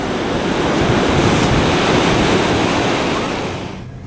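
Ocean waves and surf roar steadily and loudly with broad wind-blown hiss, no voices, fading slightly at the very end.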